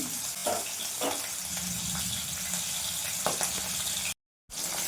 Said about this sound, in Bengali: মাছগুলো কড়াই আমি দিয়ে দিলাম তেলের মধ্যে।